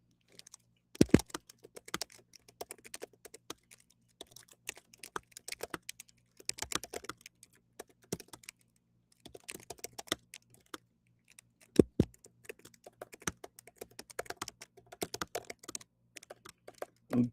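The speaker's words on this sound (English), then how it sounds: "I'm just typing it in the chat right now." Typing on a computer keyboard: bursts of rapid, crisp key clicks with short pauses between runs, close and fairly quiet over a faint steady hum.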